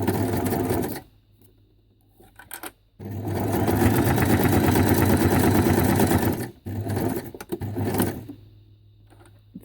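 A sewing machine chatters in fast, loud bursts while stitching small fabric butterfly embellishments, running several seconds at a time with brief pauses between runs.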